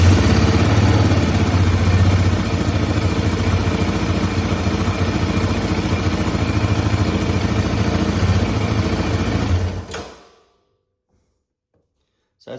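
A Yamaha Raptor ATV engine idles steadily and close by with an even, throbbing drone, then cuts out abruptly near the end, leaving silence.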